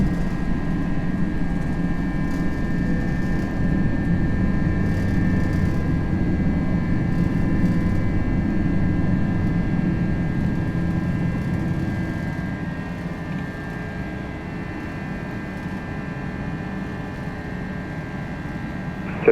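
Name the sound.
Airbus A321 jet engines during takeoff in a flight simulator game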